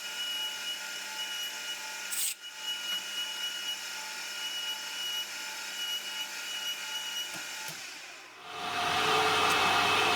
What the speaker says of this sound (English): I'm simply using the parting tool to turn it